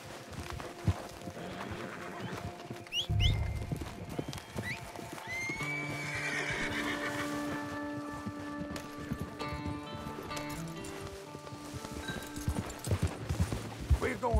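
Horses in Red Dead Online clip-clop and neigh, hooves thudding in rhythm with a loud whinny midway, while someone talks over the game sounds.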